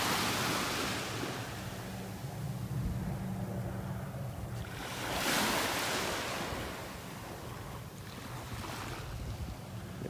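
Ocean surf rolls steadily onto the beach at Delnor-Wiggins on a clear morning, a continuous broad wash of breaking waves with wind buffeting the microphone, swelling slightly in the middle and fading again.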